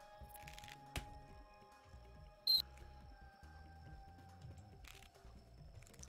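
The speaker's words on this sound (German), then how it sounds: "Dieses fiepende Soundeffektchen da könnte auch mal beseitigt werden." In the castle-building video game Castle Story, a single short, high-pitched squeak stands out over faint, sparse in-game clicks and soft rustling background sounds.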